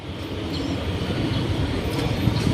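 Suburban train on the Maha Chai line pulling into Wongwian Yai station platform in Bangkok, a continuous low rumble and rolling hum that builds slightly toward the end, with no talk.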